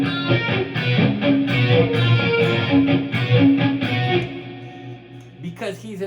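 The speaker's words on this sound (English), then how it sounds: "And then I had it where I could add the reverb." An electric guitar plays a fast, distorted run with a reverb effect, notes ringing out loud and close before trailing off into a brief scratchy flourish.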